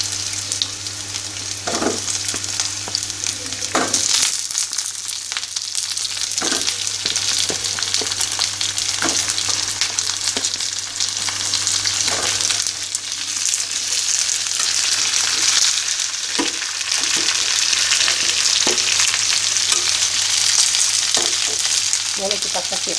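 Sponge gourd with sweet corn and glass noodles stir-frying in a Minang-style dish: loud continuous sizzling with frequent clacks and scrapes of a spatula stirring, close up and without talk.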